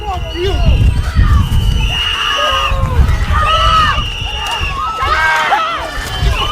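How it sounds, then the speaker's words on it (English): Onlookers at a tense street confrontation shout and yell at agents walking back to their vehicles. Overlapping raised voices and cries form a loud, continuous crowd din throughout. "We saw observers shouting at the agents as they walked back to their vehicles."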